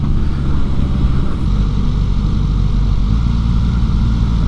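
A 2024 Suzuki GSX-S1000GX+ motorcycle engine rumbles steadily on a demo ride, a loud, continuous low drone that holds an even level throughout with no pauses.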